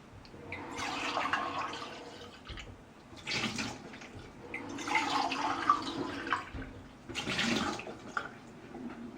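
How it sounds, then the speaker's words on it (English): Running tap water rinsing out a measuring cup in a kitchen, coming in several splashing bursts separated by brief pauses, quiet and close. "I'm also rinsing out the measuring cup just so it's easier to clean later"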